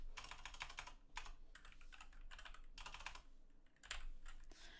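Rapid keystrokes on a computer keyboard while building in Roblox Studio, coming in bursts of steady clicking broken by brief pauses, close and fairly quiet with no voices.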